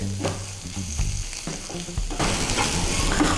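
Curry leaves with garlic fry in a pan for an oil-free dahi chicken dish, giving a loud, continuous crackling sizzle that swells louder toward the end, with no speech.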